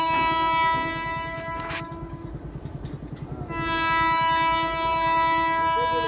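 A passenger train sounds a long, loud, sustained horn as it approaches during Holi festivities, the steady tone broken briefly midway by rumbling rail noise, then resuming at full strength.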